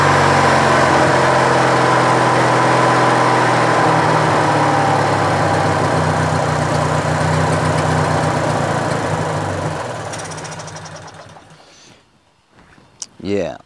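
A Craftsman LT1000 lawn tractor's Briggs & Stratton opposed-twin engine runs steadily with the choke about halfway open, a loud, close, even hum that then winds down and cuts out near the end.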